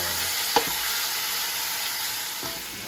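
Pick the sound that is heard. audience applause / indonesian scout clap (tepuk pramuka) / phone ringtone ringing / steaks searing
steaks searing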